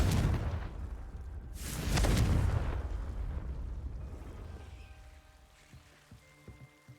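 A Confringo fire spell exploding in the video game Hogwarts Legacy: two heavy blasts in quick succession, the second a deep, rumbling boom that slowly fades, followed by soft tonal game sounds.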